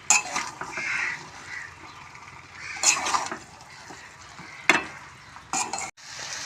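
Spice mix being stir-fried with fried potatoes and soybean chunks in a pan for a soybean curry: soft sizzling under repeated scraping and clinking of a spatula against the pan, in short bursts.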